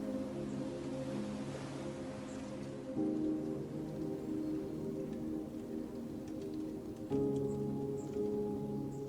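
Steady rain falling outside, a constant hiss with a soft background hum of sustained tones beneath it.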